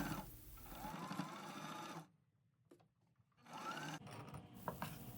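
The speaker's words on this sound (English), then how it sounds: "Using a 3mm stitch, we're going to top stitch along the very edge of the body fabric" A sewing machine topstitches a 3mm stitch along the edge of a fabric wallet body in two short, quiet, rapid runs, separated by a brief pause.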